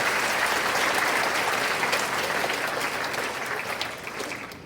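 A freshman orientation crowd gives a dense, sustained round of applause, loud and even throughout with many hands clapping at once, easing slightly toward the end.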